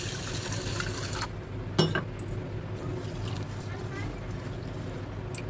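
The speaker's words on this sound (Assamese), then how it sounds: "আৰু এইখিনি নৰসিংহ পাতখিনি মই ধুনীয়াকৈ বাছি কৰি ধুই ল'লোঁ 4 বা 5 বাৰ।" Curry leaves being rinsed in water for a red lentil chutney: running, splashing water close by under steady background noise, with a few clinks partway through.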